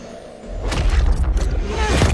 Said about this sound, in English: We sure cause a lot of explosions.